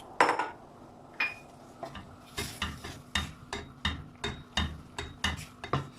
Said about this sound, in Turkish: Ve hızlı bir şekilde karıştırmaya başlıyoruz.